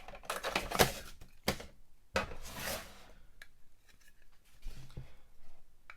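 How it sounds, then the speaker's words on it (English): Plastic clicks and scrapes as a carbon-block Boba Fett figure piece is pried out of a 2020 Vintage Collection Slave 1 toy ship, a few sharp snaps around quieter handling rustle, close and moderately loud. "So let's get the carbon block out."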